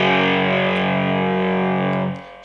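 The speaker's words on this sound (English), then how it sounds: "So that's the tone without the tremolo" A single distorted electric guitar chord rings out steady and loud without pulsing, then is cut off and fades after about two seconds.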